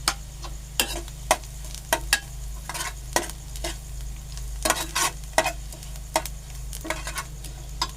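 Onions and masala stir-fried in a pan, with a metal spatula clattering and scraping in quick, uneven strokes over a constant low sizzle and background hum, loud and near, no speech.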